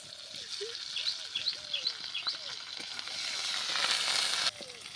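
Ginger and green chili paste hits hot oil in a pan with fried tomato, giving a steady sizzle that swells louder, while birds chirp in the background of a village kitchen.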